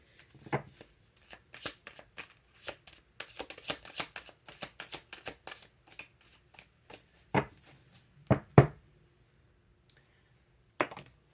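Tarot cards being shuffled in a quiet room, a run of soft crisp riffles and clicks in the first seven seconds, then a few louder isolated snaps and taps with pauses between.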